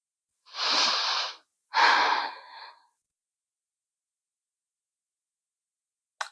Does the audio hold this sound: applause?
no